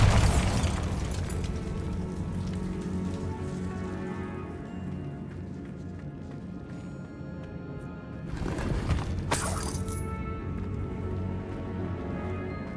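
Magical Bombarda blast in Hogwarts Legacy: a sudden loud burst at the start and a second boom near the end, set against a steady rumbling, rain-like background wash.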